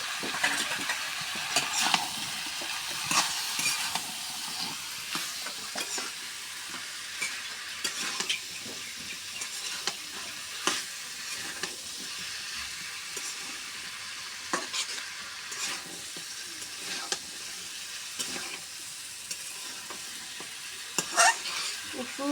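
Cut potatoes fry in a pan with bay leaf, giving a steady bright sizzle throughout, broken by repeated scraping and clattering stirs close by.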